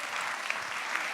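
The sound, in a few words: audience applause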